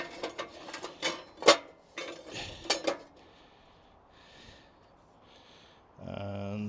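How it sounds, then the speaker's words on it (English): A metal tray slid into a beer barrel BBQ, a series of close metallic clanks and scraping knocks over a few seconds before it settles, followed by quieter handling and a low hum at the end. "Let's just pop the tray in."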